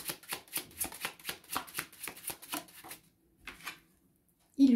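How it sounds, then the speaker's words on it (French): Tarot cards being shuffled and drawn, a rapid run of crisp, close riffling flicks in a steady rhythm that stops, followed by a couple of softer card sounds and a brief thump at the end. "on me dit de continuer à tirer les cartes"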